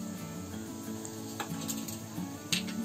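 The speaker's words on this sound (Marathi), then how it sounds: "जिरं चांगले तडतडत आले की लगेच हिंग टाकायचं." Cumin seeds crackle in hot oil in a kadhai for Marathi-style tempering of safflower greens, a soft steady sizzle with a few sharper pops, close and fairly quiet, with no voices.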